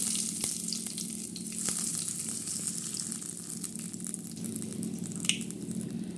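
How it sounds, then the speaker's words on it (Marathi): Curry leaves hit hot oil for tempering, crackling and sizzling loudly and close, with sharp pops over a steady frying hiss. "आता कढीपत्ता टाकलेला आहे"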